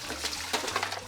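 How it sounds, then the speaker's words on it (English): Turkey brine pours down into a kitchen sink in a steady, splashing gush of liquid, close and continuous, with no talking. "carefully pouring it down into the sink"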